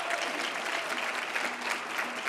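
Steady, full applause from a gala audience, many hands clapping evenly and fairly loud for the whole short stretch.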